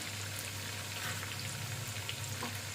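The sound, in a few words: small green chili added to hot oil, frying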